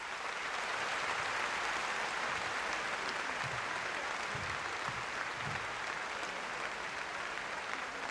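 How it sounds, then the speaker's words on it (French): Sustained, even applause from a French comedy show audience honouring Marie-Louise Asseux, a dense steady wash of many hands clapping at moderate distance for about eight seconds with no speech over it. "nous vous prions de bien vouloir l'applaudir"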